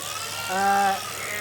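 Single sheep bleating during spring shearing, one wavering bleat about half a second long over a steady mechanical background hum.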